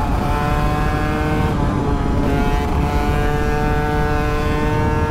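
An Aprilia RS 125 motorcycle ridden on a road holds a steady, buzzy two-stroke engine tone close by, with a brief shift in pitch midway and wind rush underneath.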